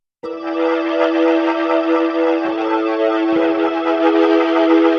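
A Nord Stage 4 set to a Hammond B3 organ patch with overdrive grit holds a loud, screaming sustained chord, its tone briefly dipping twice as keys are re-struck, with no talking.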